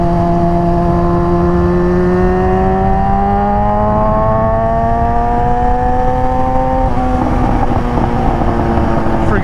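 A loud sport motorcycle on a used Pirelli Supercorsa tire is ridden on the road, its engine a continuous droning whine that climbs steadily in pitch through the gears, close and overpowering, with wind rush beneath.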